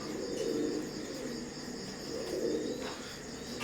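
A pair of imported Teddy pigeons of Oman bloodline coo softly in a few low, rounded swells while shifting about, faint and close against a constant insect-like background hiss.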